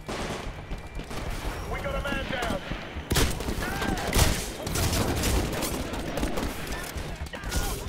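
Pistol gunfire in the Titanfall video game, dense bursts of shots and crashing game combat sounds running throughout, loud and close, with some speech in the mix.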